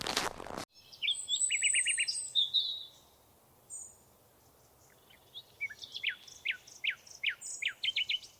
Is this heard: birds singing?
yes